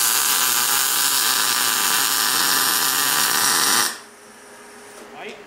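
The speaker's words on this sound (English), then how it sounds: "I'm going to come down with my MIG gun down in here and try and get some weld in there" MIG welder laying weld to fix a nut onto a broken bolt: a loud, close, steady hissing crackle for about four seconds, then it cuts off abruptly into near quiet.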